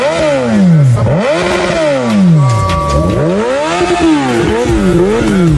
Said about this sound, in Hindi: अरे भाई बाइक लेके जा रहा है यार।